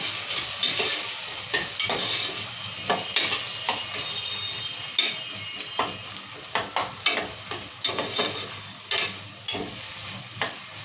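Tomatoes sizzle steadily in hot oil for a mutton curry while a spoon stirs and scrapes the pan in repeated, irregular strokes, the frying hiss continuous and close throughout.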